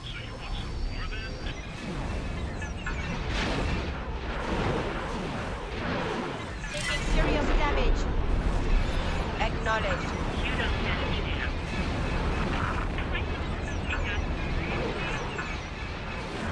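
Continuous weapon fire and booming explosions from a space combat battle in the video game X4: Star Wars, dense and loud throughout with heavy low rumble, and a voice talking underneath.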